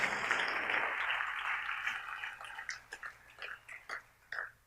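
A church congregation gives applause to the Lord, starting as a full wash of clapping and quickly thinning to a few scattered, separate claps before near silence, ending with one sharp knock.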